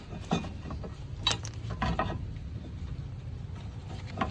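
A screw is driven into a brake pad holder on a 2016 Honda Civic EX: faint metallic clicks and ratcheting taps in an uneven rhythm, with a few sharper clinks of metal on metal.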